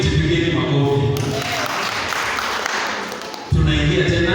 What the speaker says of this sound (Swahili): tupigeni makofi